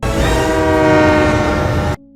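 A train pulls in with a loud sustained horn blast over rumbling wheels, the tone holding steady before cutting off abruptly near the end.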